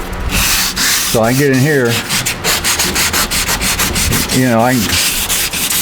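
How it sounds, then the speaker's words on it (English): Sandpaper rubbing briskly over wood in repeated strokes, close and loud, while someone talks between the passes. "I just used a piece of sandpaper and made it the shape I wanted."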